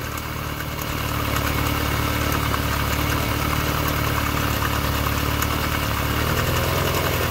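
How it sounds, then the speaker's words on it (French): Volkswagen Golf 2 GTI 16v engine idling slightly unevenly, a steady close mechanical rumble with faint wavering in tone, heard alone without talk. "Tu vois, le ralenti bouge un peu."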